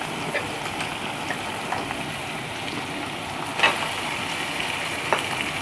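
Broiler chicken meat frying in spiced oil, a steady soft sizzle with occasional crackles and a louder pop near the middle, heard alone with no voices.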